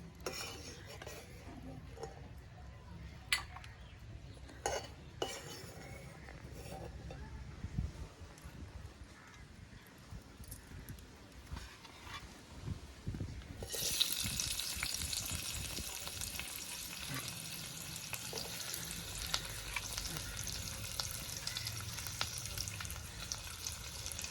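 Chopped onion frying in a pan with roasted coconut, a steady bright sizzle rising abruptly partway through after quieter scraping and stirring clinks, continuing loud and close to the end without talk.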